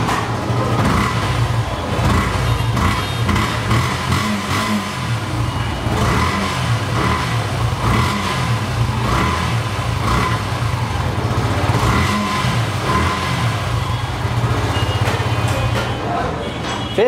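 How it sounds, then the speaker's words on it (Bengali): Yamaha FZ-S V2 motorcycle engine running steadily with a continuous low hum and rising rev surges throughout, mixed with traffic-like background noise; no clear talk over it. "তার জন্য একটু আজকে এই বাইকটির সাউন্ডটা শোনাই।"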